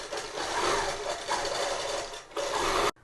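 A long arm quilting machine stitches a quilt with a fast, steady whirring hum, close and continuous, easing briefly twice before stopping abruptly at the end.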